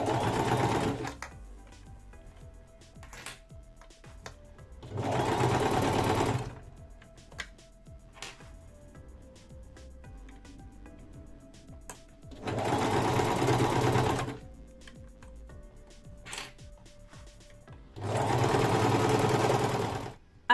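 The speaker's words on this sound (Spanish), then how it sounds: "tenemos que hacer una costura, que la podemos hacer a mano o con la máquina de coser." A sewing machine stitches a zip into the lining of a crochet bag, with three loud, close bursts of rapid whirring. Quiet handling sounds fill the pauses between the runs.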